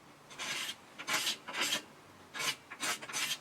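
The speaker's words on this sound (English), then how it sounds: "razor blade with some tape on it and scraping off that super glue" Razor blade wrapped in tape scraping dried super glue off the finished wood of a cittern during setup, a series of short dry rasping strokes in uneven bursts, close and clear with no talk.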